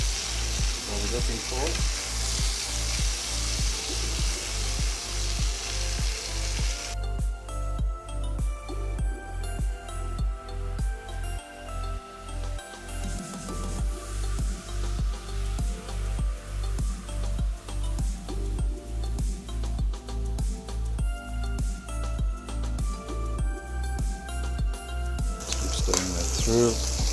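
Vegetables stir-fry and caramelize in a hot pan for a coconut chicken tagliatelle dish, a loud continuous sizzle with rhythmic tossing and stirring scrapes, close up, with someone talking briefly over it.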